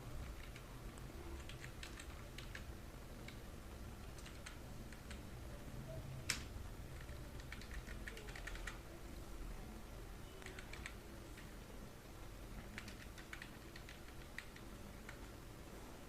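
A computer keyboard is tapped in short bursts of quick keystrokes while a serial number is entered, faint and close against a quiet room hum, with pauses between the bursts.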